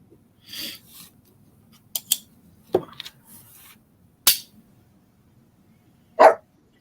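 Dogs bark in a sewing room where fabric is being cut with a rotary cutter, several short sharp barks spread irregularly over a few seconds, fairly close, with faint cutting sounds between them.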